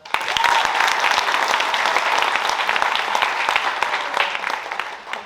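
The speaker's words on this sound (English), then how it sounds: "Can we have another round of applause for Samhita?" An audience at a school TED talk event applauds in a steady, dense wash of clapping that holds for several seconds before tapering slightly.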